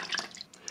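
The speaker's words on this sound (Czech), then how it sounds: "Voda se ani nezachytí na botě." Water beads and runs off a dry, impregnated nubuck shoe in a brief, faint trickle of light drips and splashes, with no talking.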